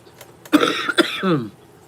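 A single harsh cough close to the microphone, followed by a short throaty rasping exhale, with quiet moments before and after.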